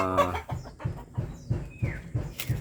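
Young hens of the Gilmore bloodline cluck close by in a steady run of soft, evenly spaced low clucks, one opening call a little higher and louder than the rest.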